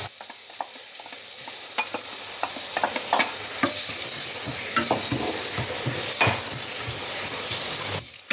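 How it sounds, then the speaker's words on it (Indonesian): Chili, shallots, garlic and spring onion stir-fry in a pan with a loud, continuous sizzle, punctuated by frequent sharp spatula scrapes and taps against the metal, with no talking. "Aku mau tumis."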